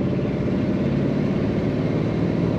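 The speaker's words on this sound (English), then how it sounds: "Lovely rumble coming out of the back of this car." Steady low exhaust rumble from a 1950 Ford Club Coupe, a continuous broadband drone with no voices.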